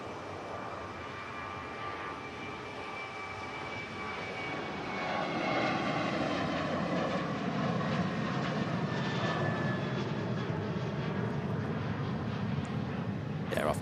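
A Ryanair jet airliner takes off from Manchester Airport, its engines rising from a distant rumble to a loud steady roar, with faint speech underneath.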